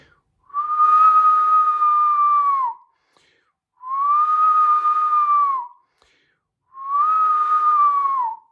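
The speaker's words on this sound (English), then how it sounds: "And that's just the way that I whistle." Three loud, clear sustained whistled notes, each about two seconds long with a slight downward bend at the end, separated by short silences.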